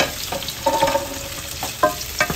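Ripe tomatoes tumble into garlic frying in annatto oil, bringing a burst of sizzle and scraping stirs that flare in a few loud pulses over a steady background crackle.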